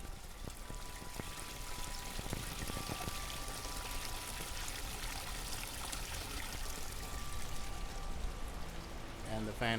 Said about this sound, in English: you can still hear the water feature